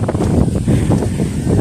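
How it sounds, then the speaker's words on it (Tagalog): Strong wind on an exposed lookout in the Visayas after the typhoons, buffeting the microphone as a continuous low, rumbling roar, with no clear voices. "Grabe ang hangin."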